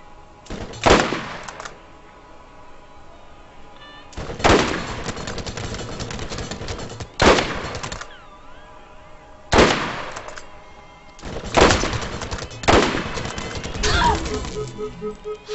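Loud bursts of rapid gunfire from a first-person shooter video game, Borderlands, come in six separate volleys, each lasting about a second, with quieter stretches of game ambience between them.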